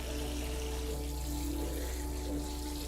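Water gently runs and swishes as a historic dress is washed during conservation work, a steady, soft, continuous flow under a low constant hum, with no voices.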